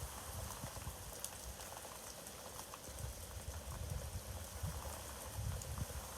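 Steady rain falls during Hurricane Henri near the coast, a dense continuous hiss with a low rumble, at a moderate level with no talk.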